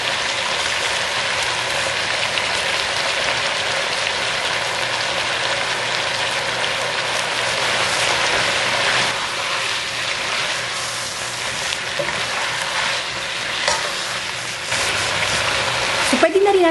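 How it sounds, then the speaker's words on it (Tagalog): Chicken pieces sauté in a pot with Knorr chicken cubes for Filipino tinola, making a steady close sizzle and frying hiss throughout, with a brief clatter near the end. "habang ginigisa natin itong ating chicken, pwede na rin natin isama yung ating Knorr chicken cubes"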